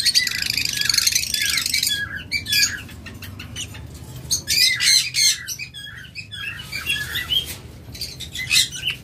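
Many pairs of opaline pet birds squawk and chirp together in loud, bursting clusters, shrill and close, with rustling between calls and no voices.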